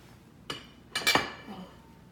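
A pot lid set on a pot of boiling wontons, giving a few close metallic clinks and a brief clattering rattle as it settles, with quiet pauses in between.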